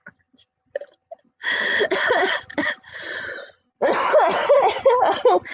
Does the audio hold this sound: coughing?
yes